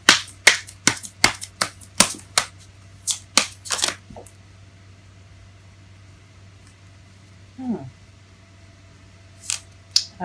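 Tarot cards are shuffled in a quick run of crisp riffling snaps, which then stop and leave near silence with a few faint later card sounds.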